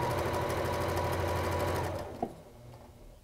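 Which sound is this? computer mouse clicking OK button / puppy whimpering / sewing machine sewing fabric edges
sewing machine sewing fabric edges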